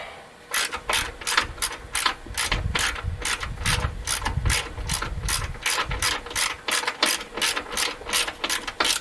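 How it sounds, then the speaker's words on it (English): Ratchet tightening a 10 mm bolt on a brake hose bracket of a 1999 Ford Expedition, a close, loud run of rapid regular clicks in quick bursts throughout. "Now we're going to tighten up this 10 mil here going to the frame."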